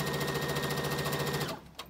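A Brother sewing machine sews fabric with a fast, even, buzzing run of stitches up close. It stops abruptly after about one and a half seconds, followed by a single small click.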